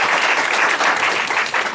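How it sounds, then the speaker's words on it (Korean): A congregation claps to welcome first-time visitors during a Sunday church service, a steady, dense round of hands that stays loud and even throughout with no voices over it. "저희가 박수로 환영했으면 좋겠습니다"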